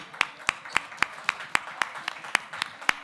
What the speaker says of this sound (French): On peut l'applaudir bien fort, il était avec nous.